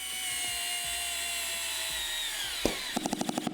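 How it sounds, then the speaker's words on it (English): A cordless electric screwdriver drives a screw into a solid wooden worktop: a steady high motor whine with faint clicks runs for a few seconds, then a thump and a quick run of rhythmic ratcheting clicks as the clutch slips, close by. "It can drive a screw all the way in."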